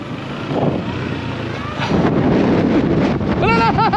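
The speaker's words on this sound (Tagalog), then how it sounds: "Ang lakas ng hangin!" Strong wind gusts across a clifftop, a steady roar buffeting the microphone close up as excited voices call out over it.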